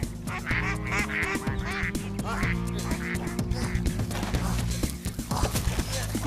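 Cartoon duck quacks in a French animated comedy about radioactive plutonium duck, repeated nasal squawks scattered over a busy, loud music score with no talk.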